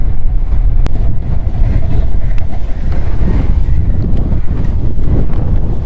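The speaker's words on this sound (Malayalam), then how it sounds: "ആളെ എടുത്തോണ്ട് പോകുന്നുള്ള രീതിക്കുള്ള കാറ്റ്" Strong wind buffets the microphone during a daily motorcycle ride, a loud, continuous low roar with steady gusting and no voices.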